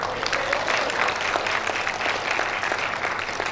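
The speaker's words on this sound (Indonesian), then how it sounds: "Ya, boleh tepuk tangan." Sustained applause from a large audience at a bachelor's degree graduation ceremony, a steady dense patter of clapping throughout with a faint voice underneath.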